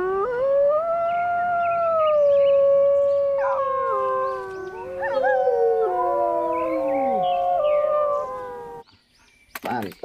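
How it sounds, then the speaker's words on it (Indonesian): Wolves howling in the video game Jurassic World Evolution 2: several long, wavering howls overlap loudly and close for about nine seconds, then cut off with a few sharp clicks. "Wah, ada serigala."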